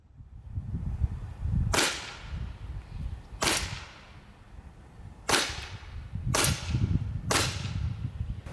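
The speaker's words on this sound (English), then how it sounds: "We're using Daisy BBs and Crossman CO2s and Sig Sauer pistols." Five sharp, snappy shots spaced a second or two apart from a Sig Sauer P320-X Carry .177 blowback semi-auto CO2 BB pistol loaded with Daisy BBs, fired at a target 7 yards away, over a low background rumble.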